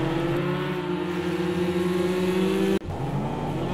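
A Porsche GT race car engine screams in a sim racing game at Bugatti circuit, holding a high, steady note down a straight before an abrupt cut and a gear change. It sounds loud and close, with no talking.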